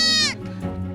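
Goat bleating inside a barn in a remote Pamir mountain village, a single loud, close, wavering cry about a third of a second long, followed by low barn murmurs.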